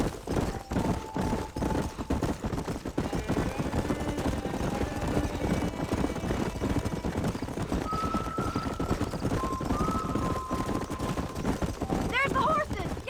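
Horses clip-clopping in the Red Dead Redemption game, a dense, steady patter of hooves throughout with a whinny and an engine-like drone underneath, while people talk over it.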